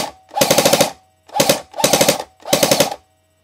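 An airsoft gun fires four rapid full-auto bursts, each a tight rattling string of shots separated by short pauses, loud and close with no talking.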